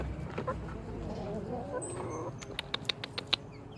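Young chickens cluck and murmur close by in a coop over a low background hum, with a few sharp taps or pecks near the end.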